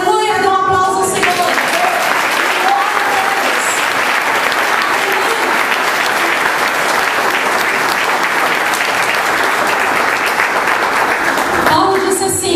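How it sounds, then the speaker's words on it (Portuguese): A church congregation applauds during worship, dense sustained clapping filling the room for several seconds, loud and steady before tapering off at the end. "dê um aplauso ao Senhor"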